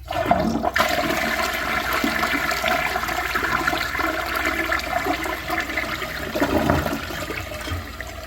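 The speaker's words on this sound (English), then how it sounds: "Let's have a look at a flush." A 4th generation Eljer Patriot toilet flushes with a loud, steady rush of water that swirls and drains through the whole stretch, with a brief gurgle near the start and a surge toward the end.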